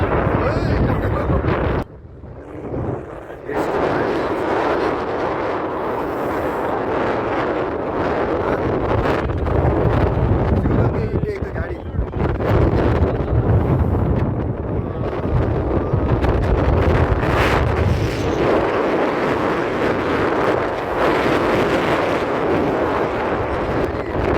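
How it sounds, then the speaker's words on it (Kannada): Strong wind buffeting a hilltop at Himavad Gopalaswamy Betta, a loud continuous roar with gusting surges and brief lulls, beating against the microphone. "ಇಂಥ ಗಾಳಿ ನಮ್ಮ ಲೈಫಲ್ಲೇ ನೋಡಿರಲಿಲ್ಲ."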